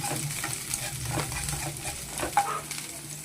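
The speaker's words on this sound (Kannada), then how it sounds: "ಎಲ್ಲವನ್ನು ಚೆನ್ನಾಗಿ ಫ್ರೈ ಮಾಡ್ಕೊಳ್ಳೋಣ. ಸ್ವಲ್ಪ ಹಸಿ ವಾಸನೆ ಹೋಗೋ ತನಕ ಫ್ರೈ ಮಾಡ್ಕೊಳ್ಳೋಣ." Green chillies and onions sizzle steadily in a pan for a Karnataka-style chicken bassaru, with a spoon stirring and scraping through the hiss and a small metallic clink near the end.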